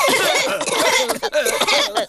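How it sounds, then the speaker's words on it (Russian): Peppa Pig cartoon characters, the grown-ups who caught Pedro's cough, coughing in quick, close bursts that overlap with animated voices and throaty noises. "все взрослые заразились кашлем от Педро"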